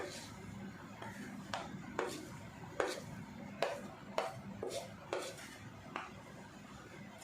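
A metal spoon stirs turmeric and dry mango powder in a pan, giving repeated light scraping clicks and clinks at a steady, unhurried rhythm, close and quiet with low room noise underneath.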